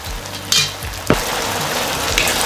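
Broccoli sizzling in a pan with beef and sauce, a close steady frying hiss with a couple of sharp stirring clanks, no voices.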